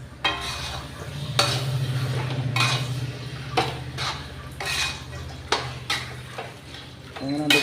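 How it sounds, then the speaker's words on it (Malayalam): A spoon stirs chicken with masala in a pan, scraping and clinking against the metal in repeated strokes over a low sizzle, while a voice talks throughout. "ചിക്കനൊക്കെ ഇട്ടിട്ട് നന്നായിട്ടൊന്ന് മിക്സ് ചെയ്യാം"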